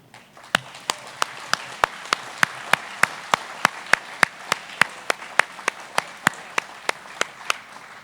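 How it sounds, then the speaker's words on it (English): A single person claps steadily and evenly, about three claps per second, over a faint background murmur at a cooperative's annual meeting. "So if I get a round of applause over there."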